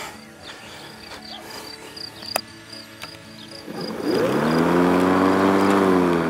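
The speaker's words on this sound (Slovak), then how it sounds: "A je vidieť, kosačka bez problémov funguje" After a few seconds of crickets and faint outdoor noise, a Ryobi RY18LMX40A cordless battery lawn mower with a 5 Ah battery spins up and keeps running steadily, fairly close.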